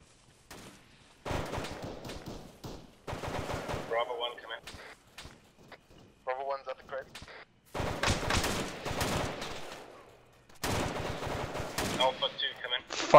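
Bursts of automatic gunfire and single shots from the military video game ARMA 3 crackle in repeated loud volleys, with players talking over the shooting between bursts.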